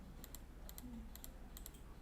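Computer keyboard keys pressed repeatedly in quick pairs, faint crisp clicks at a steady rhythm over a low background hum.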